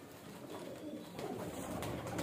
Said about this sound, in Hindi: तो ये आप कबूतर देख सकते हैं